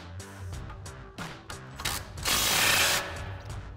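A ratchet with an 18mm socket turns a coil-over bolt on a 2005-2014 Mustang during an SR Performance coil-over install: rapid close pawl clicking in short strokes, then a louder, denser run of ratcheting near the end.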